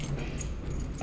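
A pair of keys jangles faintly and continuously outdoors in Malta, a light metallic rattle over steady street background noise.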